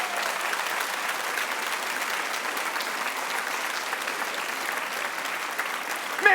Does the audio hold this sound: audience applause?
yes